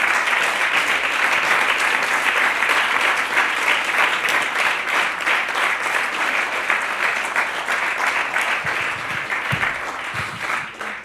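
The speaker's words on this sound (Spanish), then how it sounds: "Dale un aplauso al Señor." A church congregation breaks into sustained applause during a Spanish-language sermon, a dense, steady wash of many hands clapping for about eleven seconds, easing slightly near the end with faint voices underneath.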